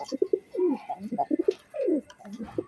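A pair of Kaldom pigeons with white tails coo close by, repeated soft throaty rolling calls in quick succession, with no talking.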